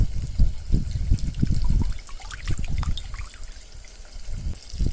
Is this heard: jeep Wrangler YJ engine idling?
no